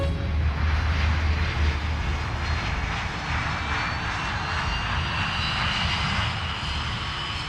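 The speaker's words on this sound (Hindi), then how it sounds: "होटल ब्रावो 2201, उड़ान के लिए रास्ता साफ है।" An aircraft engine drones steadily and loudly as a plane is cleared for takeoff, a continuous, close roar with no talking.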